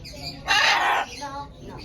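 A green-winged macaw gives one loud, harsh squawk lasting about half a second, sitting between quieter stretches of background sound.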